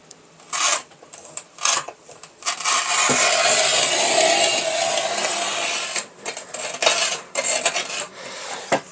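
A Raimondi Shijing T-shaped tile cutter scores large-format porcelain stoneware tile with one long, loud, steady scraping stroke, framed by short clicks and taps as the tool is set and lifted.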